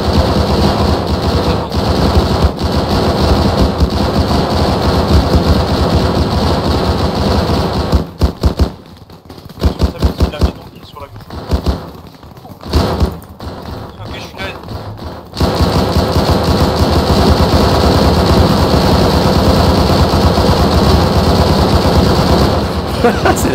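Heavy gunfire from shooting at enemies positioned in trenches beside a house in the military video game Arma 3: loud, sustained automatic bursts that break into scattered shots midway before the dense firing resumes.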